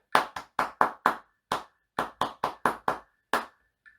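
Hand claps beat out a short rhythm, about a dozen crisp, close claps in uneven groupings with a final soft tap, with no voices.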